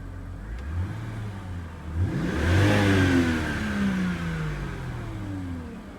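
A mini truck engine idles slightly unevenly, then revs up in a couple of rising sweeps before settling back, heard close and moderately loud with no talk.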